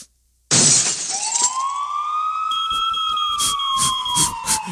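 An ambulance siren sound effect opens with a crash like shattering glass, then a wailing siren that rises and holds loud and close.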